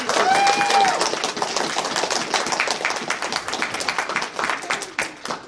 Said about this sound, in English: Guys, can I give a huge round of applause for